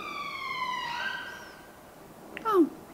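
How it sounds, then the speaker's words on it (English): A siren wails with steady rising and falling tones, then cuts off as a voice speaks briefly near the end. "Siren."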